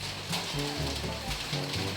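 Heavy rain pours steadily in a dense hiss at a Koh Samui viewpoint, while a voice speaks softly beneath it.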